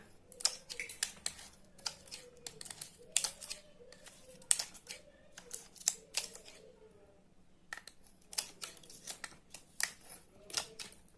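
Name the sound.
cutting paper with scissors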